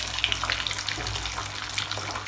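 Fish fries in hot oil, a dense, steady crackling sizzle with scattered bright pops, close and fairly loud, with no one talking.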